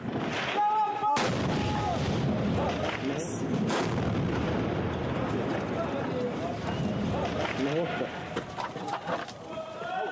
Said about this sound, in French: Attention, tir de RPG.